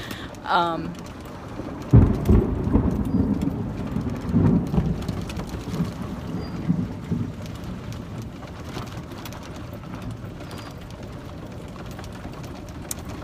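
Thunderstorm on a vacation day with a sharp close thunder crack followed by a long rolling rumble over steady rain, loud at first and then fading.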